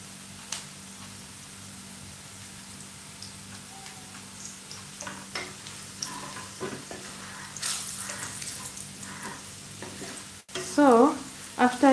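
Onions frying and browning in a pan for chicken curry give a steady low sizzle with scattered stirring clicks and scrapes, growing busier toward the end with a few louder knocks.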